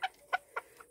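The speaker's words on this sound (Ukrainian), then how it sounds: "Ти такий маленький півничок." A young rooster clucks four short times in quick succession, close and fairly quiet, in a backyard poultry coop.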